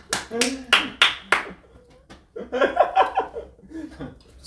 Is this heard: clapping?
yes